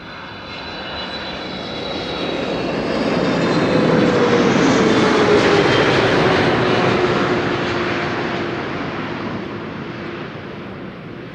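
A fixed-wing airliner on landing approach at Amsterdam Schiphol Airport roars loudly, its engine noise building to a peak overhead and slowly fading, with a falling engine whine and a steady windy rumble.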